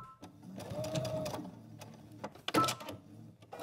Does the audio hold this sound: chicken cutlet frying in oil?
no